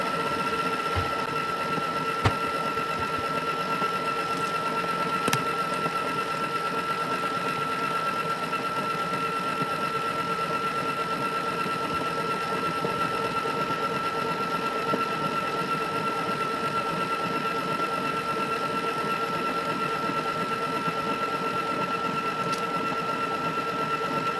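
An electric mixer beats buttercream icing in a steady, continuous whir that holds at an even level throughout, with no talking over it.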